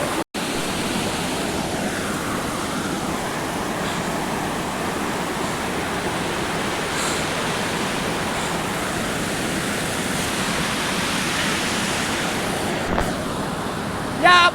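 A river rushes in a continuous broadband roar of flowing water, loud and steady throughout, at a river crossing on a trek near Yusmarg.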